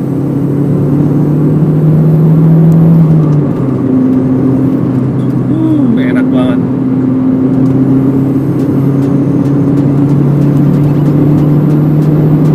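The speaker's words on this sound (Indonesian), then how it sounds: "Enak banget bunyi turbonya juga lain" A turbocharged hatchback engine hums steadily and loudly from inside the cabin, its pitch shifting once as the driver changes speed, with a faint turbo whir above.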